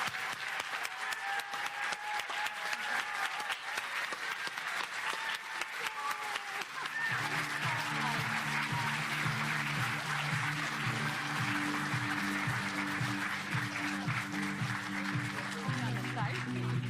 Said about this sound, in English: Will all of the Mariachi Reinas please stand and let's give them a round of applause.